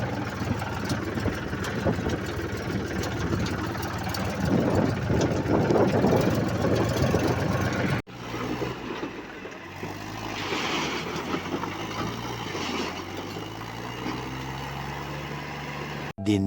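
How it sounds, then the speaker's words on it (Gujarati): A farm tractor idles steadily on a banana plantation, a continuous low engine rumble that runs throughout, briefly cut and resuming with a slightly different tone partway through, with no talk. "આપણે ઉલાર કરવા માટે, ઠલવવા માટે, ઊંચું કરવા માટે આપણું આ ટ્રેક્ટર લઈ જવી છે"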